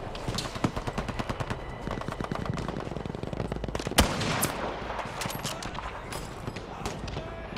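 Suppressive gunfire in the shooter game Battlefield V, with rapid bursts of automatic fire repeating in quick rhythm and one sharp, louder shot standing out midway.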